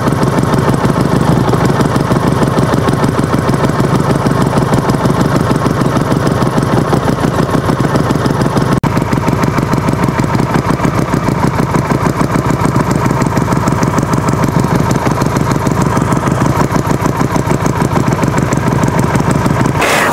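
A Napoleonbob 250 bobber motorcycle engine idles steadily up close, a loud, even, chugging pulse that runs without a break for about twenty seconds with no talking.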